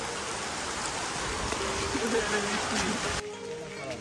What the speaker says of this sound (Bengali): দেখেন গাইস বৃষ্টি কত জোরে নামছে